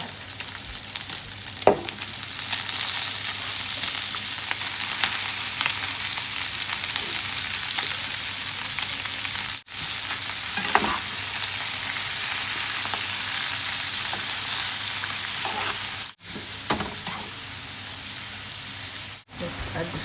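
Peanuts frying with bacon in a pan make a steady, dense sizzle that runs continuously, with occasional stirring sounds and brief dips, while a voice talks now and then.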